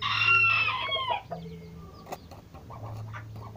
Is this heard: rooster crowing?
yes